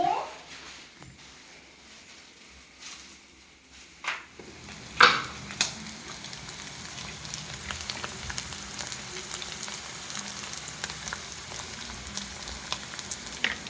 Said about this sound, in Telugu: నువ్వు చేప వేపితే సరిపోద్ది నూనెలో